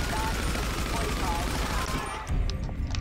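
Police gunfire in Grand Theft Auto V: dense, continuous bursts of shots and game action fill the scene, loud and sustained, dropping briefly before resuming.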